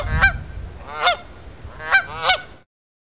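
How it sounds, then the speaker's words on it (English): A goose honks four times, loud nasal calls spaced unevenly, the last two close together, heard clearly over a faint low background rumble. "Goose."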